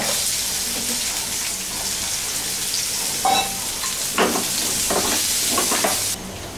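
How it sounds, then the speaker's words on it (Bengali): Chopped onions fry in oil in a pan, giving a steady, close sizzle throughout with a few brief clinks of a utensil partway through, then the sound drops quieter near the end. "কাটা পেঁয়াজ দিব কুচি করে কাটা"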